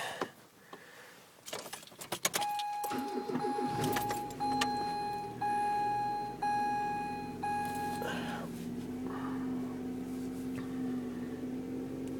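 After some clicks and a steady electronic chime, a Mazda Astina engine catches and settles into a low, even idle hum that continues to the end.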